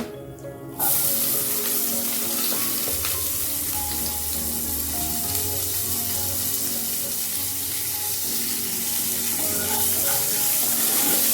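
Chopped onions hitting hot oil, a sudden burst of loud sizzling that then holds as a dense, steady crackle close by for the rest of the stretch.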